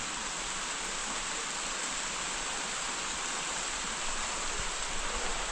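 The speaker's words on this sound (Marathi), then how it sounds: "पावसाने राप लावलेली आहे" Rain falls in a steady, unbroken wash of hiss, like a downpour filling the air, with no voices.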